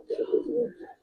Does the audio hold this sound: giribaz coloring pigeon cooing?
yes